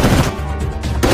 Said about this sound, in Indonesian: terjadilah adu tembak antara kubu kepolisian dan kubu gangster